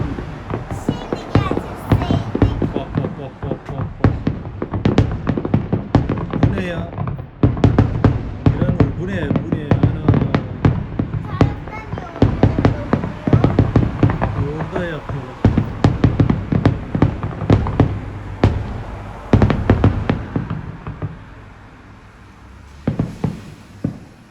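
Fireworks set off at night, popping and crackling in rapid, irregular bursts close by for over twenty seconds, with people talking throughout before the bangs thin out near the end.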